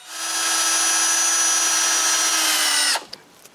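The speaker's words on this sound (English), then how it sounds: "I drill a pilot hole and I screw them on each side of the backrest." A power drill whines steadily at high pitch for about three seconds while driving a pilot hole and screw into wood, then stops abruptly, followed by a couple of faint clicks.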